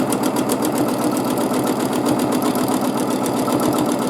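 A sewing machine runs steadily at high speed during free-motion quilting, a continuous rapid mechanical whir with no pauses and no voices.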